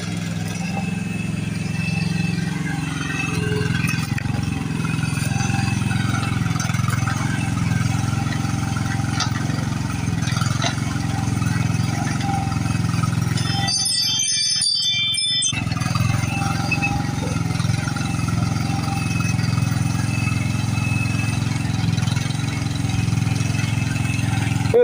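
A Groundhog machine's engine runs steadily with its exhaust tip refitted, giving a constant mid-pitched drone with one brief dropout partway through.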